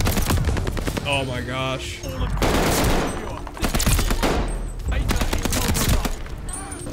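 The NZ-41 rifle fires in Call of Duty: Vanguard as rapid, loud bursts of gunfire overlapping with other shots and game effects, while a player talks over the shooting.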